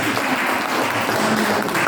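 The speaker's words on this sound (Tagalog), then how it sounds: "ituloy niyo po yung palakpak" An audience applauds steadily at a property membership presentation, a dense, continuous wash of clapping filling the whole stretch without a break.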